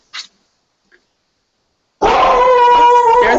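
A dog lets out a drawn, wavering howl mixed with barking yelps, loud and close, after a couple of brief faint sounds and a stretch of silence, heard over a group call.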